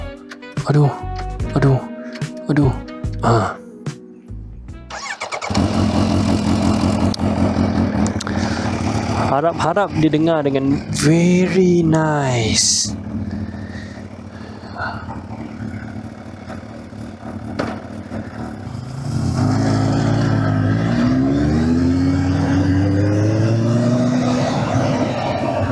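A Kawasaki H2 motorcycle engine idles and revs close by, with sharp rising and falling throttle blips in the middle and a long climbing rev toward the end, after a brief stretch of talking at the start.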